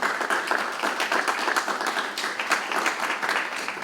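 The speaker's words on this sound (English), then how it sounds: "give them a round of applause" Warm, dense applause from the audience at a spring school band concert, honoring the alto saxophone players, with many hands clapping steadily for a few seconds.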